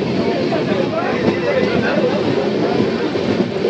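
Train racing along the rail line at 125, giving a continuous loud roar with a faint rhythmic clatter throughout.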